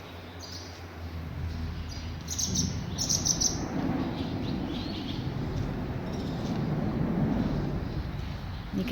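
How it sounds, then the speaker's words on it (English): Birds chirp and roost beneath a freeway, with bursts of sharp, high tweets scattered over a steady low rumble of traffic overhead, moderately loud and fairly close. "There's a lot of birds. Listen."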